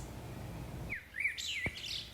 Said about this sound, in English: It's an orange and blue macaw.